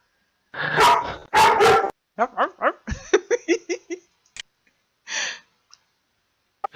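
A pet puppy barks nearby indoors during an online book-club reading session. A quick run of short, high yips and barks follows a couple of breathy human sounds, then a trailing whine and a last few faint yaps.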